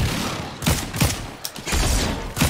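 Repeated loud shots from the Excalibur rifle in the Fortnite video game, several close, heavy blasts in quick succession with brief gaps between them.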